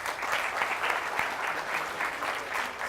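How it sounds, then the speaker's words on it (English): Sustained audience applause at a TEDx event, a dense, steady wash of many hands clapping for the organizers, fairly loud and continuous throughout with no speech over it. "a huge round of applause to the organizers of the event"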